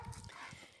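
Dogs at home give a brief, close bark or grumble at the very start, then fade into a short stretch of quiet room noise with no speech.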